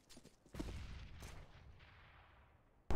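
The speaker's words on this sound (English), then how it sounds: "Grenade out." A grenade goes off in a video game: a soft burst at the start, then a blast with a long, fading rumble, all fairly faint, followed by a sharp sound at the very end.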